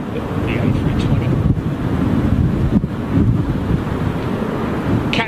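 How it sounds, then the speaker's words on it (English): Gusty crosswind at London Heathrow Airport buffets the microphone in uneven surges, a loud rumbling rush that swells and eases over several seconds. "crosswind here at London Heathrow, gusting about 20, I think."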